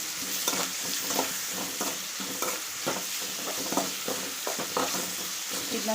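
Chopped onions and tomatoes frying in a pan with oil and salt, a steady sizzle broken by repeated scraping strokes of a spoon stirring, close and without talk.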